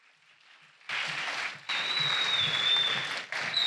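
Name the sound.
applause at a graduation ceremony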